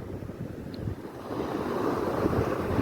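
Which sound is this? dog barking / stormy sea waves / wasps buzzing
stormy sea waves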